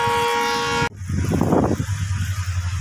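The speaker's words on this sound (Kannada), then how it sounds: "ಈ ಟ್ರೈನ್ ಹೋಗ್ತಾ ಇದೆಯಲ್ಲ" A train on a railway bridge near Nanjangud station sounds its horn in a sustained blast that cuts off abruptly, followed by a rumbling, rhythmic clatter of wheels as it passes.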